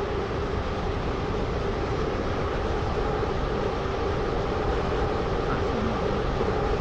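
A Class 350 commuter train running in the Roblox game Stepford County Railway gives a steady, loud, unbroken rolling rumble with no clear gaps or talk.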